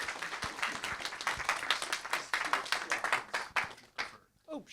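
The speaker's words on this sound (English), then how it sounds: "So let's give him a round of applause as we welcome him to come and share" An audience claps steadily in a lecture hall to welcome a speaker onto the stage, the applause dense and sustained before tapering off sharply near the end.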